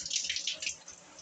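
A shower runs with water pouring from the head in a steady, close hiss that rises and falls slightly, with no voices.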